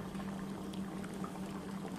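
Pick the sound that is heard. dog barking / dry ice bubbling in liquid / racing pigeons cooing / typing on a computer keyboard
dry ice bubbling in liquid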